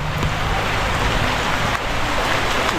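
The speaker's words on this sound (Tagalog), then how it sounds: "Sobrang grabe ang ulan." Dense, steady hiss of heavy rain pouring down, constant and loud throughout with no pauses.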